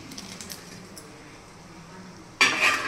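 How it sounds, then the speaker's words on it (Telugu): Paneer cubes hit a pan of cooking masala while making paneer butter masala: a few quiet clinks and stirring, then a sudden loud, close sizzle that bursts up and holds steady to the end. "దీంట్లో మనము ఈ పన్నీర్ క్యూబ్స్ అనేది వేసేద్దాం."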